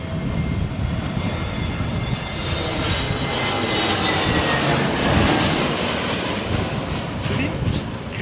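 An Aer Lingus airliner at Heathrow Airport in high winds gives a steady, loud engine roar with broadband wind rumble throughout, swelling slightly midway, with no one speaking.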